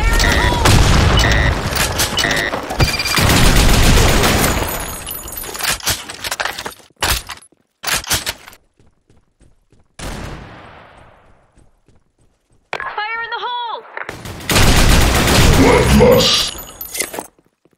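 Heavy gunfire bursts and booming blasts, including a grenade explosion with a decaying rumble, crash out in the online shooter game Blackshot. Sustained loud fusillades alternate with gaps, and a short electronic voice line sounds midway.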